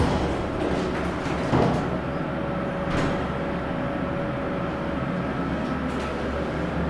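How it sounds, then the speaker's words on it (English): Vintage 1956 hydraulic elevator with a JL interlock: the car door slides shut with a brief clunk, then a steady low hum and rumble carry on as the car moves, fairly loud and close throughout, with no voices. "And the door closes when you push the button."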